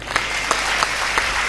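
Audience at a Hindi poetry recital (kavi sammelan) clapping steadily, a dense wash of applause with a few sharper bursts, moderately loud and continuous with no talking.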